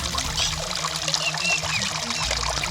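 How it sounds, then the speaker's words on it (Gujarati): Water runs from a village main supply pipeline in Rapar taluka, Kutch, as a steady, fairly loud pouring gush that continues without a break. "આ જે પાણી આવે છે ને એ ટાંકા પુરવઠામાંથી જ આવે છે"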